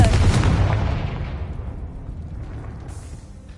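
A Confringo blasting spell in the Hogwarts Legacy video game, a loud booming explosion that rumbles and fades over a few seconds.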